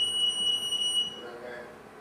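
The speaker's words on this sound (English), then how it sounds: "fire alarm" A kitchen fire alarm sounds a steady high-pitched electronic tone that cuts off about halfway through, over faint room noise and soft background voices.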